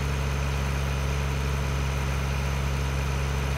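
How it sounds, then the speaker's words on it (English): An underpowered tractor engine idles in the Farming Simulator 2013 video game, a steady, low, droning rumble that stays constant and unbroken throughout. "Right, this tractor is underpowered."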